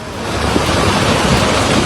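Swollen river torrent after heavy rain, rushing loud and steady as it sweeps along chunks of wood and large rocks, a continuous broadband roar with no voices.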